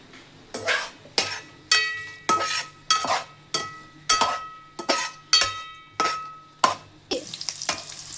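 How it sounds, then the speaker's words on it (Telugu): Onion, carrot, green chillies, curry leaves and bay leaves fry for biryani in a pan, a spatula scraping and clinking against the metal in a steady rhythm of about a dozen strokes over a constant sizzle. "ఇప్పుడు నేను ఉల్లిపాయ, క్యారెట్, పచ్చిమిరపకాయలు, కరివేపాకు, బిర్యానీ ఆకులు వేసి వేపేస్తున్నాను"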